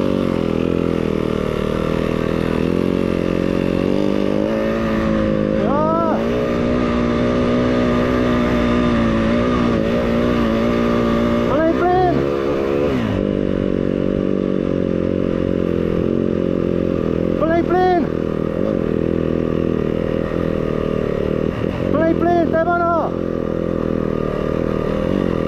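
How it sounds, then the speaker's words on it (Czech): Yamaha PW 50 mini motocross bikes buzz and rev loudly through an uphill sprint race at Polička, with repeated rising engine whines as riders pass close by, while people shout over the engines. "Motorky!"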